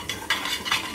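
Spoon stirring sambar masala into a pan, a continuous close scraping and light sizzling with two brief louder scrapes, no talk.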